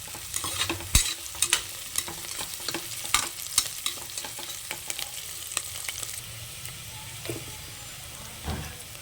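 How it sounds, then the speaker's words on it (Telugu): Onions fry in a pan at the start of a boti curry, a soft sizzle underneath repeated scraping and stirring knocks at an irregular rhythm, close and fairly loud. "ముందుగా ఉల్లిపాయలు వేసానండి. కొంచెం వేగనివ్వాలి ఉల్లిపాయలని."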